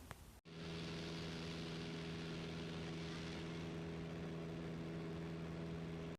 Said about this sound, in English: the airplane was super loud